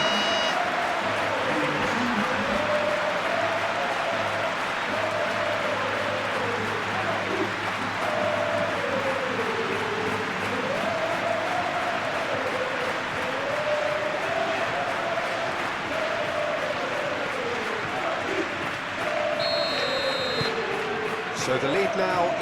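A stadium crowd in the eFootball PES 21 football game keeps up a continuous roar with rhythmic rising and falling chants during a La Liga match, under steady commentary talk.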